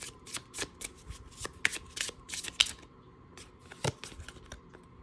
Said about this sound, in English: What a smooth shuffle.